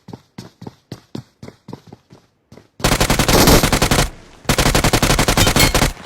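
Automatic gunfire in the battle royale game BGMI: a string of separate sharp single shots, then two long, loud sustained bursts of rapid fire with a short pause between them, with no talking.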